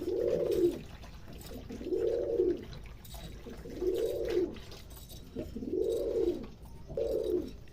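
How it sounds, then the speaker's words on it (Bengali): Pigeons coo in a slow, regular series of five soft, rounded calls close by, drinking lukewarm water laced with a little turmeric on a winter day, with faint background noise between calls. "এই যে সব পায়রা চলে আসছে খাওয়ার জন্য"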